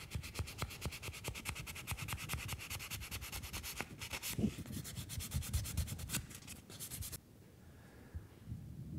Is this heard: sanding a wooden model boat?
yes